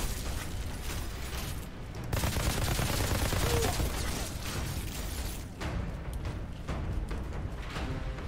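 Gunfire in the Outriders shooter game rattles in dense, rapid bursts of shots with mechanical clatter, loud and continuous, briefly easing before resuming.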